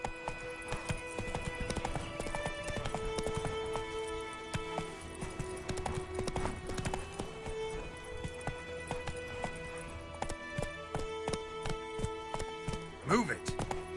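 Horse hoofbeats clip-clop and gallop steadily in the game The Witcher 3: Wild Hunt, with a whinny near the end, continuous and close throughout, under game music and a brief spoken line.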